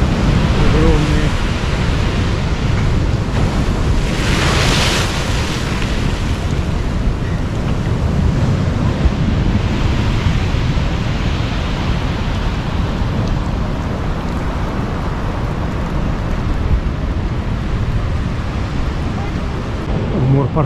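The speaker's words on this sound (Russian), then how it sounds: "огромные волны," Storm waves roll and crash against the Alushta central embankment in a steady heavy roar mixed with wind noise on the microphone, with a louder surge early on.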